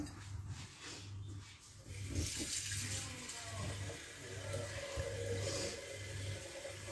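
Water poured into a cooking pot for a lentil and vegetable stew, a steady running splash under a low electrical hum, growing fuller partway through, with no clear talk.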